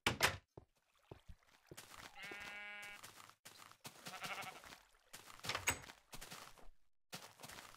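Sheep bleating nearby in a quiet setting, several separate wavering calls in a row with short pauses between them.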